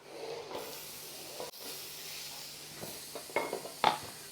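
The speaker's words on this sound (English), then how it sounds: "To this we're going to add our chopped onions." Chopped onions tipped into a pan of roasting cumin give a soft hiss and sizzle, with a few clinks of utensil against the pan near the end, quiet and close with no talking.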